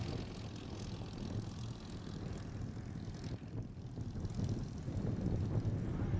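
A propeller airplane engine drones steadily and builds slightly in loudness during takeoff at an airshow in Martinsburg, a constant low rumble with no voices.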